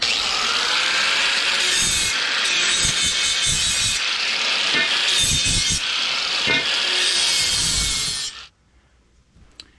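Power tool grinding down the cut ends of a rusted steel fence rail, a loud close whine with scraping bursts that stops abruptly near the end, leaving near silence.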